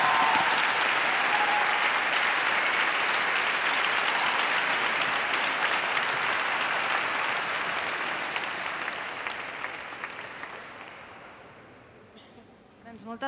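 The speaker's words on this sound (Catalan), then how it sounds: "Un fort aplaudiment, un altre." Sustained applause from a graduation ceremony audience, dense and steady for most of the stretch, then thinning and fading out near the end.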